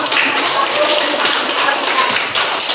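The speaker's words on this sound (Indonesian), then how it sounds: "Iya, bagus, tepuk tangan." An audience applauding with dense, steady hand clapping that fills the whole stretch, continuous and fairly loud in a classroom or hall setting.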